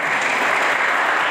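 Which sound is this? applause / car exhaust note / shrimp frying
applause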